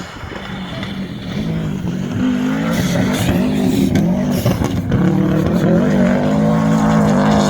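A classic Subaru rally car's engine roars steadily as it climbs a hill, revving hard and shifting through gears, loud and close with a throaty, rising drone.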